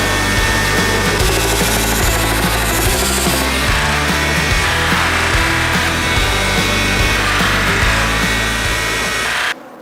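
A belt grinder fitted with a 400-grit belt sands a knife blade made from an old horse rasp, giving a loud, continuous abrasive whir and grinding rasp that runs steadily and cuts off abruptly at the end.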